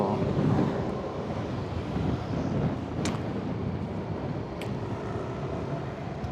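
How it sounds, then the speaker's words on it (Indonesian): Strong wind and rough waves on a drizzly coastal beach, a loud continuous roar of surf under heavy wind buffeting on the microphone, with no talk. "Kebetulan anginnya juga lagi gede di sini teman-teman tuh. Ombaknya juga jadi lebih kencang"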